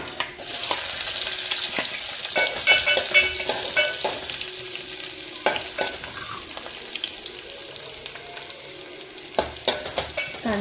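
Chopped onion hits hot oil with mustard seeds and sizzles loudly and steadily, with repeated scraping stirs of a spatula in the pan close up; no talk is heard.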